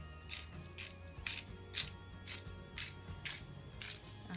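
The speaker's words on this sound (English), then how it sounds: "my Italian Alessi dipping sauce, the little grinder. I'm going to add some more of this on top" Small hand grinder cranking out Italian Alessi dipping seasoning, a series of dry, crisp grinding bursts in a steady rhythm, close and fairly quiet.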